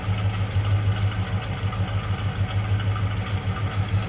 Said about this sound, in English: Good sounding truck too.